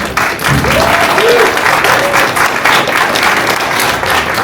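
An audience applauds loudly at a Chicago house music event, a dense, sustained roar of clapping and crowd noise that holds steady for several seconds.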